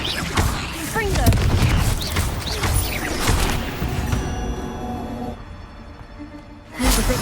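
Confringo spell blasts from Hogwarts Legacy boom and crash in a loud, continuous flurry of combat impacts. They thin out toward the end before one more burst, with a voice speaking over the fight.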